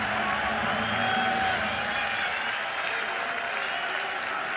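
Baseball crowd at an Oklahoma Sooners vs Texas Longhorns college game, applauding and cheering in a continuous roar with bases loaded, steady and fairly loud from start to finish.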